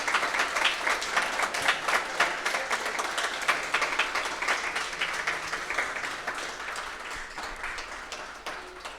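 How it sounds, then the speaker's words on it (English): A conference audience at a game industry event in San Francisco applauds the developers in the room, a dense, steady round of clapping that builds and then slowly thins out with no talk over it. "could we have a round of applause for these fine human beings here?"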